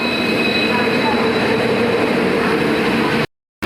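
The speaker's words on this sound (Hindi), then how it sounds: "हमारी ट्रेन आ चुकी है" The Sadbhavana Express with new LHB coaches, hauled by a WDP4 diesel locomotive, rolls in with a loud, steady rumble and wheel noise close by, then the sound stops abruptly.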